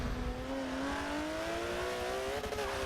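A racing car's engine climbs steadily in pitch while accelerating in the video game Forza Motorsport 7, heard close and moderately loud as one unbroken rising whine with no talk.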